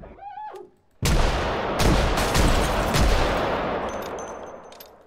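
A burst of video game gunfire: one sharp shot after a brief lull, then a loud sustained volley of repeated shots that slowly fades, with no talk over it.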